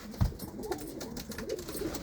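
Pigeons cooing softly near a rooftop loft with nesting birds, low faint murmuring calls with a brief thump at the start.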